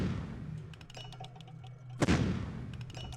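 Ranged-attack gunfire in the strategy war game Shadow Empire: a few sharp shots and rattling bursts over a low hum, topped by one loud, close blast near the middle.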